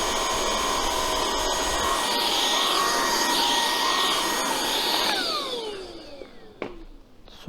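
A Dibea F20 Max cordless stick vacuum cleaner runs with a loud, steady, close whine and airy rush for several seconds. Then it is switched off and winds down with a falling pitch.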